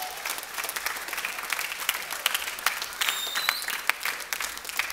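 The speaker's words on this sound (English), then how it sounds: "let's give the musicians a round of applause." An audience at a choir concert applauds the musicians with dense, continuous clapping that fills the space evenly from start to finish, with no talk over it.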